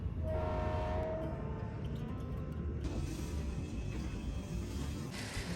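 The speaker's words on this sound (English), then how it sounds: "and we're on the train to Haarlem." Steady low rumble and rattle inside a moving train from Amsterdam to Haarlem, with a brief tonal hum early on and a constant rolling drone throughout.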